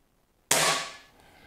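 One sharp shot rings out from a Reximex RP air rifle, a sudden loud crack with a brief clattering ring that dies away within about a second.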